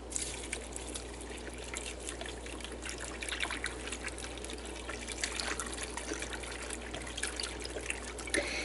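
Liquid trickles and pours steadily into a soup pot for several seconds, a close, continuous watery dribble with no talking.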